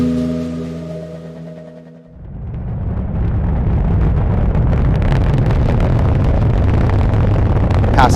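Rocket launch roar, a loud broadband rumble that starts abruptly after a tonal hum fades and then holds steady and dense, building in intensity, with no talk over it.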